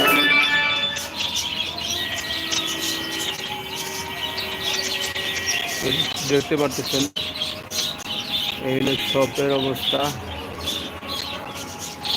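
Pigeons coo and chirp steadily inside a pigeon shop, with someone talking over them near the microphone.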